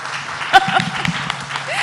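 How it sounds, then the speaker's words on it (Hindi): An audience at a conclave breaks into brief applause, scattered and moderate, mixed with a speaker's voice and crowd chatter over a short moment. "एक बार तालियां बजा दीजिए"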